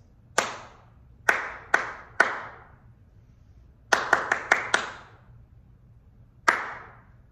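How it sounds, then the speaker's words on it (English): Sharp hand claps spaced out in a slow, uneven rhythm, with a quick burst of four claps in the middle and silence between. "So if we've got a very slow beat, it sounds like this."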